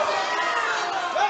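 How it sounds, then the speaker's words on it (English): Crowd at an MMA fight night, final bout in round four, roaring and cheering in a steady, dense wash of voices throughout. "You can hear how much the crowd is into this."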